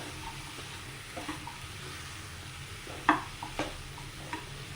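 Vegetables and paneer stirred in a pan while roasting without oil, giving a soft, low sizzle with a few brief scraping and clinking stirs.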